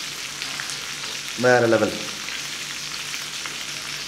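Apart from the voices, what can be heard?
chicken frying in a pan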